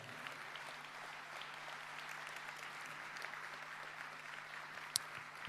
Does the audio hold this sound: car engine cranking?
no